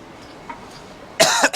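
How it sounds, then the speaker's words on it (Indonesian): A short burst of coughing, two quick harsh coughs close by after a moment of quiet room noise, on Jalan Alor food street in Malaysia in the morning. "Saya sudah mulai batuk-batuk ya."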